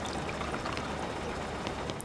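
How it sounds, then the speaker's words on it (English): Boiling water spilling from a spigot onto the floor in the game West of Loathing: a continuous, soft rushing pour, fairly faint and even for about two seconds, with no talk. "You pour a little bit of boiling water onto the floor, making hot mud."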